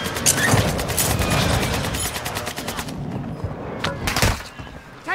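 Bursts of automatic gunfire in Call of Duty Warzone 2.0, rapid cracking volleys that pause briefly and then return loud and close.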